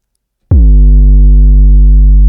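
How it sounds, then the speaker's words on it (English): A synthesized 808-style kick drum with its decay stretched out: one deep, loud boom after a short silence, sustaining as a long low tone for nearly two seconds without fading. "it sounds like an 808."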